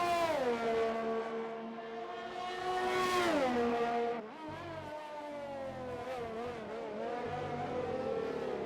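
A race car in an RSF1 league race at Singapore howls loudly, its revs climbing and falling through gear changes, with a sharp drop near the middle before it builds again, alone without commentary.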